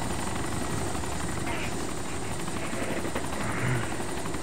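Helicopter rotor noise in the video game DayZ Origins, a steady continuous drone running throughout, with faint talk over it.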